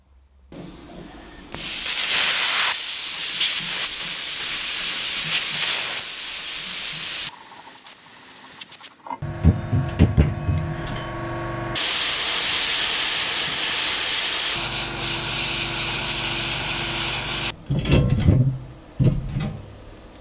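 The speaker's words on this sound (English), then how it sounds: "Time to weld the end plates on." Welding end plates onto a battery frame gives loud, steady hissing and crackling bursts that stop and restart several times, with short gaps of clatter between passes and no talking.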